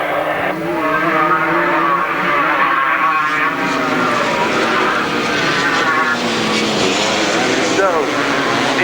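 Grasstrack racing motorcycles from a 1992 meeting roar close by, with loud engines rising and falling steadily through the whole stretch while a commentator talks excitedly over them.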